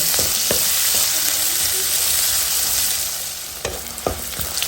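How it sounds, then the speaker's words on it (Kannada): Onions fry in a pan with a loud, constant sizzle close by, while a spoon scrapes and clinks against the pan in a few quick strokes near the start and end. "ಇವಾಗ ಇದನ್ನು ಚೆನ್ನಾಗಿ ಹುರ್ಕೊಳ್ಳೋಣ ಈರುಳ್ಳಿ ಸ್ವಲ್ಪ ಕಲರ್ ಚೇಂಜ್ ಆಗಲಿ ಅಲ್ಲಿಯವರೆಗೆ ಇದನ್ನು ಹುರ್ಕೊಳ್ಳೋಣ"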